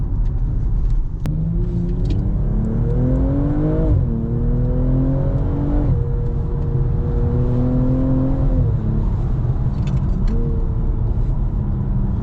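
A BMW M4 engine revs while driving, heard from inside the car as a loud steady rumble, with the engine note climbing and dropping through several gear changes and no talking.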